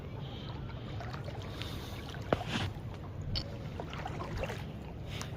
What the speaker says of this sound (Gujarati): આ હોડી છે, લાઇટ ફિશિંગ કરે છે ગેરકાયદેસર